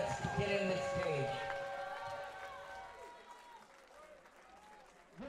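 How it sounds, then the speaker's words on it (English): Crowd applause and cheering at a cage fighting event after a bout ends, loud and dense at first and slowly thinning out, with an announcer's voice and a shout over it. "let's give John Awwad a big round of applause"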